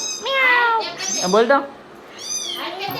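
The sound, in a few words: cat meowing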